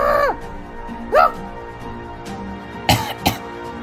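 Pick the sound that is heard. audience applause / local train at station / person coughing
person coughing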